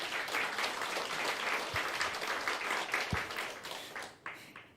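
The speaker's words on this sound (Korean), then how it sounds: "박수 한번 쳐드립시다" Congregation at a Korean church service applauding the people who prepared a meal, a full burst of many hands clapping that holds steady and then tapers off toward the end.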